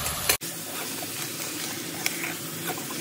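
Sliced tomatoes hit a hot pan of sautéed coriander and mint for chicken biryani, setting off a steady close sizzle and hiss that runs throughout after a brief bump at the start.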